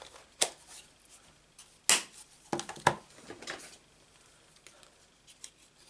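Scissors cutting paper for a handmade card during stamping and cardmaking, a few sharp, crisp snips spaced irregularly, close and fairly loud against a quiet background.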